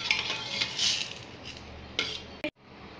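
A dish of yogurt raita topped with onion-tomato tadka being covered, with soft rustling and light scraping followed by a single sharp clink of a lid near the end, then near silence.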